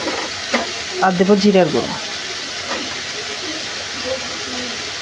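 Ground spices sizzling and being stirred in a hot pan with oil for a Bengali okra (bhindi) curry, a steady frying hiss with a few scraping stirs, while someone talks over it.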